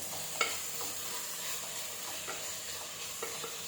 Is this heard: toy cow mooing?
no